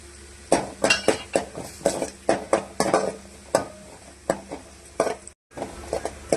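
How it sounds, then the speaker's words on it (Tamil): Onions and garlic sautéing in a pan for Tamil fish kulambu, a spoon repeatedly scraping and clinking against the pan in an uneven rhythm over a soft sizzle, with a brief silent gap near the end. "வெங்காயம் வதங்கட்டுங்க"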